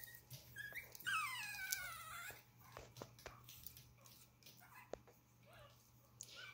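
Chihuahua puppies about five and a half weeks old give faint, high whimpers and yips, a couple of rising squeals then scattered soft cries, close by in a quiet room with a low hum.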